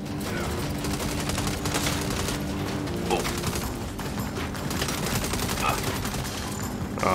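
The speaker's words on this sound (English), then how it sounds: "Are they really shooting me now?" Enemies firing at the player in the Saints Row reboot video game, a dense, continuous barrage of rapid gunshots and bursts that stays loud and unbroken throughout.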